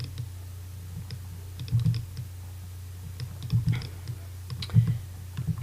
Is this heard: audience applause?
no